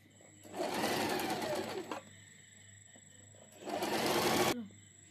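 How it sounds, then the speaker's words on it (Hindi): Sewing machine stitching a fabric collar with buckram interfacing, running in two loud bursts of rapid whirring with a quiet gap between them, no talk over it. "मैं आपको सिल के दिखाती हूँ।"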